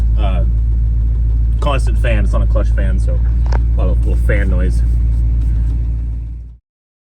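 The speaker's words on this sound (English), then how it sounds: "It's not a clutch fan, so a lot of little fan noise." A 1972 Chevrolet K10 Suburban engine runs steadily with its constant, non-clutch fan, a continuous low drone and fan whir beneath someone talking throughout before cutting off.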